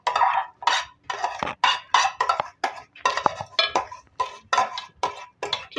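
Fried vermicelli, browned in ghee, being stirred into boiled milk in a pot for custard seviyan, with a steady run of about a dozen short scraping, clinking spoon strokes against the pot at a brisk, even rhythm, close and clear.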